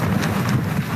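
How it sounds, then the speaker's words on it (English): Strong wind roars outside a hut in Antarctica, a loud, continuous buffeting rumble pressing against the microphone without pause. "here's what it looks like on a windy, kind of a bad day in Antarctica outside the hut"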